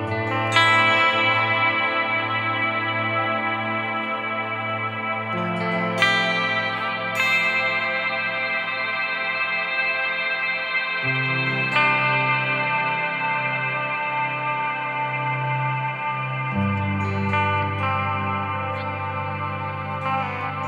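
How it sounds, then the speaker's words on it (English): Sustained tones from a Dark World pedal set to the Black into Plate dip-switch setting, each sound washing out in reverb as the next cross-fades in, continuous and fairly loud with no voices. "the old sound has the reverb on it, so it fades away, and then the new sound comes in a cross-fading musical sort of way"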